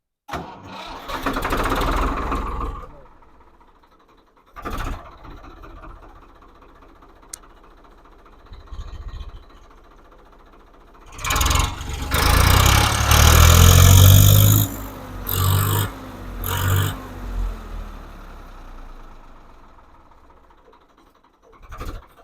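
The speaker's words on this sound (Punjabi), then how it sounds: "ਸਟਾਰਟਿੰਗ ਆ ਇਸ ਟਰੈਕਟਰ ਦੀ" A tractor engine cranks and catches with a loud rumbling roar, then settles into a chugging idle with some revving bursts, close by.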